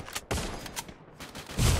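Gunfire in a mobile shooter game played on an iPhone XR during a tournament match: rapid bursts of shots in short volleys, loud and close, with a brief gap midway.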